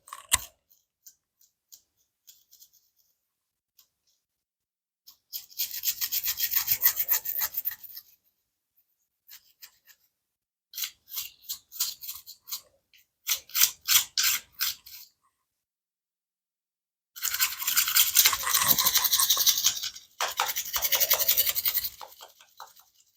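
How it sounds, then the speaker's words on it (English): Bristles scrub inside the magwell of a Ruger LC9 pistol in several separate bursts of quick, close, scratchy strokes, with silent pauses between them. "you want to make sure you're just kind of working the brush all the way around"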